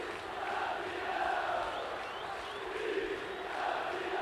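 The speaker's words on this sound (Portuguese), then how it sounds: "a torcida grita tricampeão, tricampeão" Football supporters who have invaded the pitch at a deciding 1994 Campeonato Carioca match between Vasco and Fluminense chant together, a broad, steady crowd roar that rises and falls and carries on with no single voice standing out.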